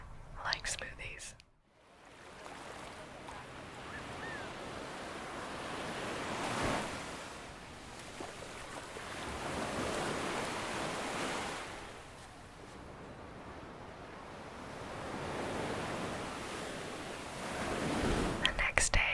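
Ocean waves roll onto a beach in Hawaii, soft surges rising and falling in slow, repeated washes of surf, heard at a moderate distance with a quiet lull near the start.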